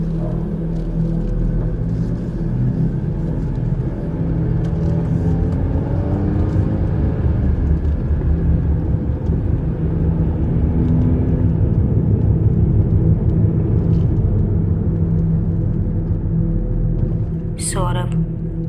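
A car speeding away fast, its loud, steady engine rumble and road drone running continuously with no pause, a brief rising whine cutting through near the end.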